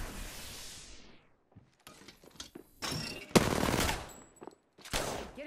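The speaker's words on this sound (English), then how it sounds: "Getting shot at." Gunfire in the Apex Legends battle royale game, broken into several loud bursts and single cracks with short gaps between them, some close and sharp, others more distant.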